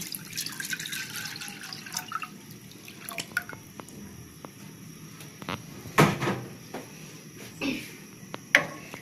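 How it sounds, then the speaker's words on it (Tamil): Filtered jaggery water poured into a cooking pan while making sweet pongal: a close, steady liquid trickle with drips, a few sharper clinks and knocks of utensils, and no talking. "பேன் வச்சாச்சு இப்போ இதில் ஊற்றலாம்"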